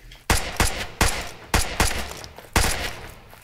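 A fully automatic pistol in Brick Rigs fires six sharp, close shots in an uneven rhythm, some in quick pairs, each cracking loudly and fading fast.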